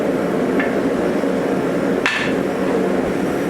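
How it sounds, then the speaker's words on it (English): Steel being hand forged with a hammer on an anvil for a knife, two sharp ringing strikes about a second and a half apart over a steady roaring background, likely a forge. "then you tap the anvil with the hammer"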